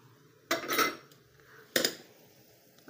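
Hot oil is stirred into spiced flour in a bowl for savory shankarpali dough, giving two short bursts of clinking and scraping against the bowl separated by near silence, close and fairly quiet.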